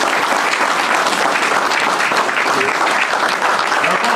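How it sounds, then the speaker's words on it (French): Wedding guests at a Central African celebration break into loud, continuous applause, a thick, steady roar of clapping hands close by that holds unbroken throughout. "Je vous demande de les applaudir."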